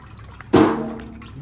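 Brief splash of liquid rendered beef tallow being poured, a single short gurgling pour that fades within a second, close and moderately loud against a quiet kitchen.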